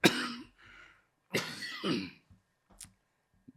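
Several harsh coughs come in two close clusters, followed by a couple of short throat sounds, nearby and with no speech.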